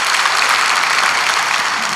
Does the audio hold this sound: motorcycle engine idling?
no